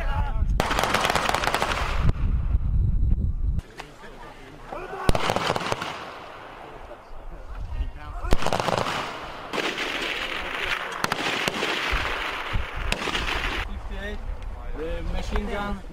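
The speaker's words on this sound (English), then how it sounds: "Machine gun. Machine gun. Machine gun." Machine guns firing during cross weapons training between US and Slovakian soldiers outdoors, with dense rattling bursts and scattered loud shots across the whole stretch, some near and some farther off, and people talking among the gunfire.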